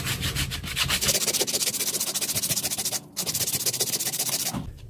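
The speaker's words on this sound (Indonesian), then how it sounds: "kalau di amplas seperti ini ini membutuhkan prosesnya lama" Close, loud rasping of sandpaper folded over a block, rubbed by hand back and forth on a wooden machete handle in steady, quick strokes, with one brief pause partway through.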